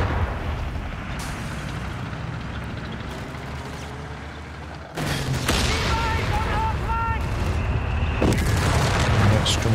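Mortar and artillery explosions in the real-time strategy game Company of Heroes 3, with a rumbling battlefield bed, then a louder burst of booms and impacts midway, and a commentator talking over it.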